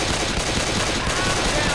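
Loud, close, dense automatic gunfire keeps up without a break during a versus match of Left 4 Dead on Xbox One.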